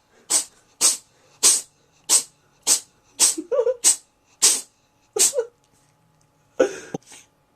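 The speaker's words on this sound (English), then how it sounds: "I'm being rudely interrupted by, by epic sneezing." A cat sneezing repeatedly indoors, around nine sharp, close sneezes in an irregular series with short pauses, then a final double sneeze, loud and with no talk.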